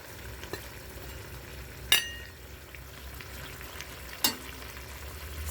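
Soft, steady sizzle of vegetables for shakshuka frying in a pot, with a couple of sharp metallic clinks from a utensil.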